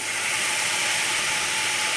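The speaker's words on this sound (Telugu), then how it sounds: "ఇలా వేగుతూ ఉన్న క్యాబేజ్లో మనం కొద్దిగా వాటర్ వేసుకున్నామండి" Chopped cabbage frying in a pan just after water is added gives off a steady, close, even hiss of sizzling steam that holds unchanged throughout.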